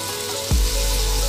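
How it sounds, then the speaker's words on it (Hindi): Soaked, washed rice drops into a hot pan for kheer with a soft thud, then settles into a steady, close sizzling hiss that carries on evenly without speech. "अब इसमें हमने चावल धो के रखे थे 2 घंटे के लिए, वो भी इसमें डाल के चावल को भी फ्राई कर लेंगे"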